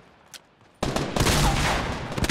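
Rapid burst of gunfire in Fortnite, a dense loud fusillade of shots erupting suddenly after a quiet moment and sustained to the end.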